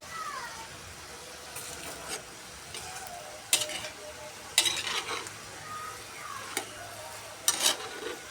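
Food sautéing in oil in a pan for Ilokano pinapaitan, a low steady sizzle broken by several sharp stirring scrapes and clanks at irregular intervals, fairly quiet and close.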